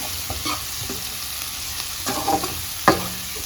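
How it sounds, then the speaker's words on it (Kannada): Onions frying in hot oil in a home kitchen, a steady soft sizzle with a few clinks and stirring scrapes, louder briefly near the end, no talking. "ಎಣ್ಣೆ ಕಾದ್ಮೇಲೆ ಸ್ವಲ್ಪ ಈರುಳ್ಳಿ ಹಾಕೋತಾ ಇದ್ದೀನಿ. ಸೊ ಈಗ ಈರುಳ್ಳಿನ ಸ್ವಲ್ಪ ಚೆನ್ನಾಗಿ ಫ್ರೈ ಮಾಡ್ಕೊಳ್ಳೋಣ."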